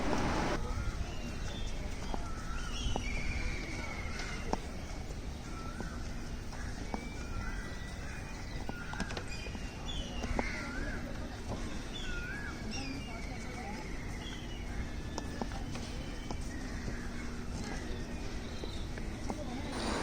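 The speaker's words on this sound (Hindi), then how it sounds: "और पंछी चहचहा रहे हैं" Birds chirp and call repeatedly along an elevated nature trail in the middle of Mumbai, the short bright calls scattered throughout over a soft, steady city background.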